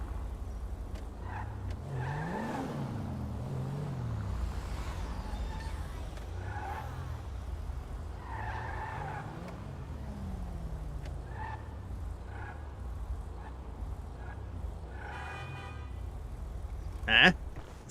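Porsche car driving in a video game, a steady engine drone with rising and falling revs and gear shifts, faint tire squeals and a short horn-like toot near the end.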